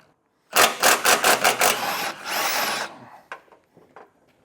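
Power tool, likely an impact driver, removing 15 mm front bumper bolts on a 2025 Ford: a quick series of loud, close bursts, then a longer whirring run and a few fainter clicks.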